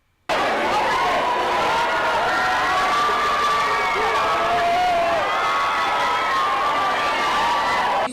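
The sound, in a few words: fans screaming and cheering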